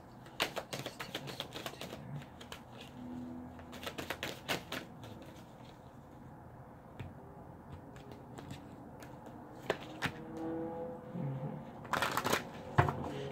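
Tarot cards being shuffled while clarifiers are pulled: repeated crisp riffling bursts with soft slides and taps in between, fairly close and moderately quiet.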